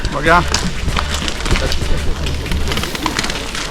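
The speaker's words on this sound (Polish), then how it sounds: "Ale za to ptaszki śpiewają." Birds call and chirp in a city park in Gliwice during a running event, with a quick chirping burst near the start, then fainter calls under a man's ongoing speech.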